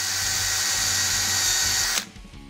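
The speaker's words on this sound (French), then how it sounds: "je vais percer en diagonale en suivant justement l'inclinaison de mes traits" A power drill bores diagonally into wood to pre-drill screw holes for attaching a floor lamp foot, a steady close whine for two seconds that cuts off abruptly.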